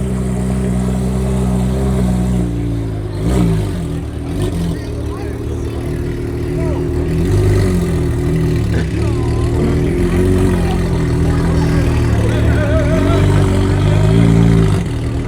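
Loud, steady engine roar from a Porsche GT3 at a San Clemente cars and coffee meet, with a continuous revving drone running the whole time and voices talking over it.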